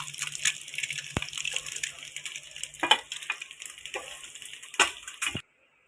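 Boiled eggs fry in hot oil for an egg gravy curry, a close, crackling sizzle with irregular pops and scraping turns of the spatula, ending abruptly.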